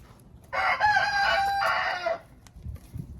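A rooster crows loudly and close by in one long sustained call, alongside COB 500 broiler chickens, big hens of about 7 kg kept in a coop enclosure, with faint low clucking around it.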